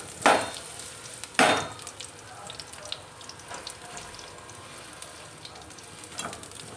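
Large onion pieces drop into a hot pan for tomato chutney, two sharp sizzling bursts followed by a soft, steady frying hiss with occasional stirring clinks.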